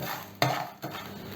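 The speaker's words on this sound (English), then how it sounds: "I'm taking rock salt, I am just putting it in the pan." Rock salt is stirred and roasted dry in a pan for South Indian idli podi, giving a close, gritty scrape and crackle with a sharp stirring burst partway through.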